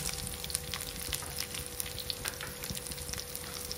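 Peanuts with dried red chillies, coriander seeds and cumin fry in a pan for gongura chutney, giving a steady close sizzle with light crackles and occasional stirring scrapes, with no talking.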